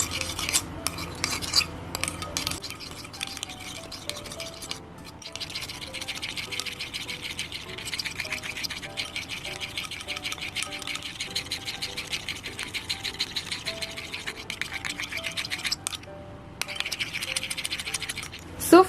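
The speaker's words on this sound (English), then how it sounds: "I think I have mixed it enough." Homemade slime made from dish soap and salt being stirred steadily in a bowl, a continuous soft scraping and rattling of a utensil running throughout with music and voices over it.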